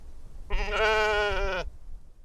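A single sheep bleats once, loud and close, a wavering, voiced cry lasting just over a second against a quiet background with no talking.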